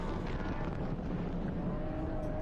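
A rough-running enduro race car with a misfiring engine passes at a distance, its drone blurred by steady wind buffeting on the microphone and holding a continuous, uneven tone throughout.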